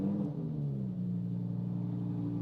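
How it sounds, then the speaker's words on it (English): Engine of a Lamborghini Huracan EVO RWD heard from inside the cabin, a loud, steady low droning rumble with a slight dip and settle in pitch, no talking. "now it's time to start it up."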